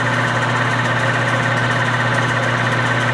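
Steady mechanical whirring of a lathe running at constant speed, a drill fed by the tailstock into metal for a banjo bolt, with a low motor hum and continuous metallic grinding, close and fairly loud.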